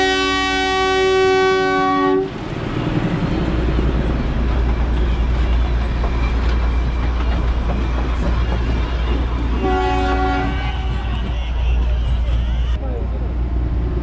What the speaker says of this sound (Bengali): ওই টয় ট্রেন আসছে, আওয়াজ পাচ্ছেন